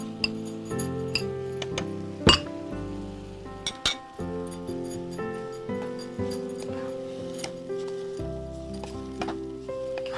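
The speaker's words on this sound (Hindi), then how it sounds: "इसको लगातार चलाते हुए कि दूध और चीनी अच्छे से मिक्स हो जाए" A spoon stirring milk and sugar in a pot gives light, irregular metallic clinks and taps against the pot, with a few sharper knocks and a steady tonal background throughout.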